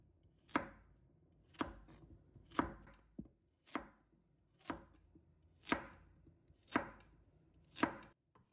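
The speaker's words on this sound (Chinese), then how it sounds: "再准备1条胡萝卜， 把它切成滚刀块" A knife roll-cuts a carrot into chunks on a board, with eight sharp, evenly spaced chops close up and no talking.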